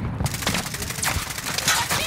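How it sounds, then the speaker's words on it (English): Rapid bursts of gunfire fill a multiplayer shooter video game firefight, dense overlapping shots and volleys crackling close and loud for about two seconds. "Under hostile fire."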